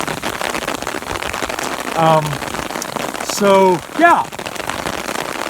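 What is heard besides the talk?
heavy rain falling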